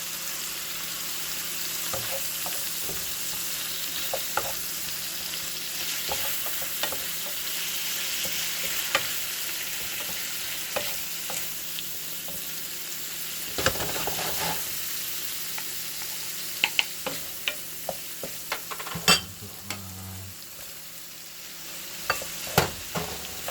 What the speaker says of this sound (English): So I sauteed the shrimp. For like say 2 minutes. And I'm gonna put my curry powder on.